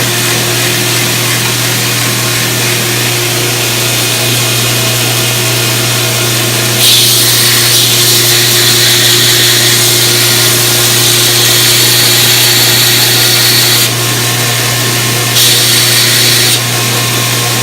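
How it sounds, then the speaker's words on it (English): A 2x72 belt grinder runs steadily on old saw blade steel, a loud continuous motor hum with harsher grinding stretches as the metal is pressed to the belt. "Probably bite in there on the old 2x72 belt grinder."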